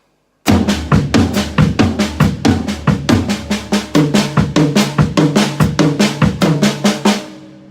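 Tom-tom drums struck in a steady run of three-note groupings, the pitches stepping across the toms, loud and close with no talking, ending in a ringing decay.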